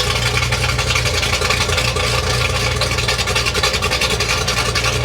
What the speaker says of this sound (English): Gives you your first initial impressions of the idle it's going to have, or the rumble it's going to have.